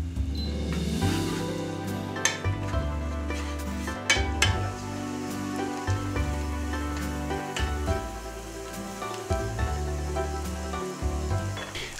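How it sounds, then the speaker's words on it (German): Onions sizzling in butter in a frying pan, with ground pepper added for a pepper cream sauce: a steady frying hiss broken by repeated clinks and scrapes of a utensil against the pan. "indem wir Butter in die Pfanne geben, die Zwiebeln anbraten bzw. andünsten und dann den Pfeffer hinzugeben"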